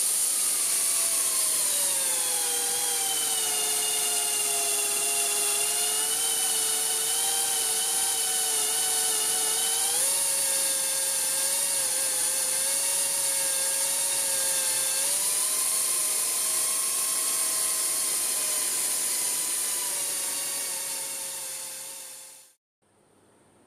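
A high-pitched rotary tool whines continuously polishing the inside of an acrylic reservoir, its pitch shifting slightly as it works, then cutting off near the end.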